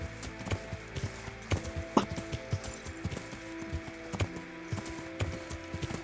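Horse hooves clip-clop steadily while riding in the medieval video game Kingdom Come: Deliverance, a regular walking rhythm of close hoof falls with faint ambient background.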